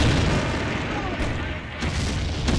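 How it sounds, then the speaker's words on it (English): Artillery fire in the World War II strategy game Combat Mission: Beyond Overlord at Carentan, a loud rumbling barrage of booms and explosions rolling on continuously with a few sharper impacts. "And the artillery is relentless."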